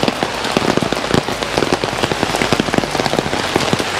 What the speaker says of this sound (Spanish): Y empieza a llover mucho más que antes.